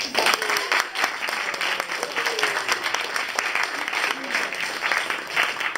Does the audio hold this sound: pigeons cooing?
no